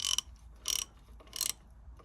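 A ratchet turns a 13 mm socket while tightening a bolt on an Audi A6. It makes three short, close bursts of rapid metallic clicking, separated by brief pauses.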